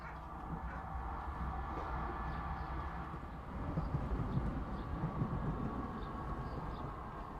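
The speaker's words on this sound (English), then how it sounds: "Well, at least the train's up and running now." Train running in Construction Simulator 2022, a continuous low rumble of rolling wagons with faint rhythmic clacks, swelling slightly midway, steady and moderately near without talk.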